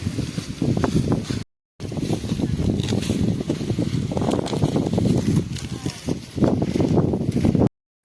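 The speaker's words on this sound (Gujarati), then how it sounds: "પવન બહુ આવે છે બાકી બહુ પવન છે ભાઈ" Strong wind sweeps across an open maize field, buffeting the microphone with a loud, continuous, rumbling roar that cuts out twice briefly.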